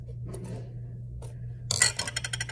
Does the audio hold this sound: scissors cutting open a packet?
yes